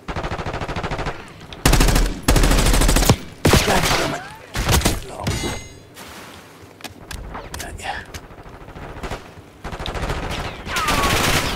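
Assault rifle gunfire in Call of Duty Black Ops 6 free-for-all multiplayer on the Babylon map, loud bursts of rapid automatic fire alternating with single shots, thuds and game effects, packed closely together.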